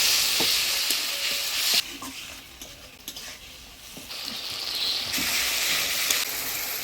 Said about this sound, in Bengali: এবারে দিয়ে দেবো সামান্য জল, মশলাটা ভালোভাবে কষানোর জন্য